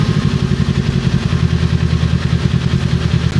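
Kawasaki Z400 with a Yoshimura R77 exhaust and the silencer removed, idling loud and close with a deep, bassy, steady pulsing throb and rapid firing rhythm throughout.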